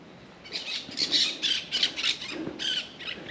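Several bright, squawky bird calls repeat in short bursts over faint background noise in Jamaica, moderately near, with no talking.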